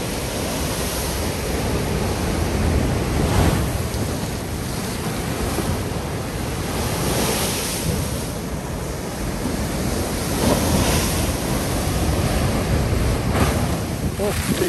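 Sea waves breaking and splashing on the shore beside a railway at Lazarevskoye, Sochi: a loud, continuous roar of surf with surging swells, heavy wind buffeting the microphone throughout.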